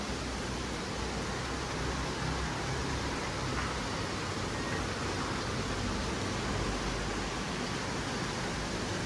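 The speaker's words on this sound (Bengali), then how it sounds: "প্রচুর বৃষ্টি হইতেছে, প্রচুর।" Heavy nonstop rain pours down after a night-long downpour, a dense, even roar of hiss that fills the whole clip without pause, loud and close, with no talking over it.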